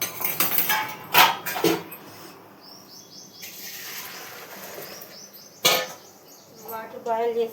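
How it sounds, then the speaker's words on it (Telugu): A metal plate set on top of a cooking pot of Hyderabad dum biryani gives a few sharp, close metallic clinks and clatters, with birds chirping faintly in the background. "ఇట్లా ప్లేట్ పెట్టేసుకుందాం"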